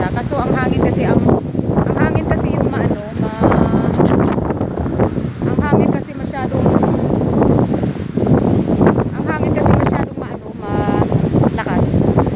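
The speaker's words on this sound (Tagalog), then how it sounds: "kasi ang hangin malamig. Pero pag hindi siya mahangin, hindi dapat ganito kalamig" Strong, cold wind roars and buffets the microphone in a continuous rush while a person keeps talking.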